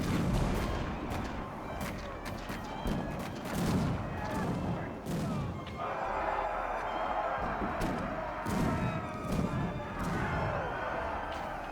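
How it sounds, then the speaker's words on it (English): Battle sounds from the strategy game Victoria 3: bursts of gunfire and booming artillery roll on continuously, dense and rumbling, with sharper volleys scattered throughout the mix. "And now there's a battle happening again."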